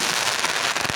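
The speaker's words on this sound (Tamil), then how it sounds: "வான வேடிக்கை." Fireworks burst at a Vinayagar temple festival, a dense loud barrage of crackling explosions with a couple of heavier booms at the end, no voices.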